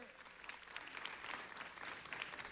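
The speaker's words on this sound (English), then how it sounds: "for the football team, give them a round of applause" Applause from a city council meeting audience for a football team and band, a steady wash of clapping that is quite quiet and distant, with no gaps.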